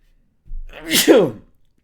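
A single sharp sneeze, close and fairly loud, with a short breathy intake just before it and nothing else around it.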